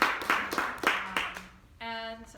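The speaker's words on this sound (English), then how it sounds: "let's give a round of applause for our panel" A small audience claps for an American Studies alumni panel at the University of New Mexico, a handful of distinct clap bursts close together, followed by a short sustained tonal hum.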